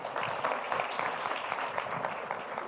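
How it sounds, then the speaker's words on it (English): Audience applause at an interactive session with an LGBTQI+ society, a steady, fairly soft wash of many hands clapping that holds evenly throughout. "Round of applause, ladies and gentlemen."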